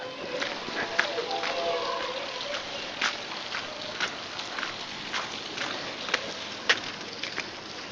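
Steady rain falls in Abha, a dense, continuous patter of drops with scattered sharper taps on hard surfaces, close and fairly loud, while a voice can be heard speaking underneath.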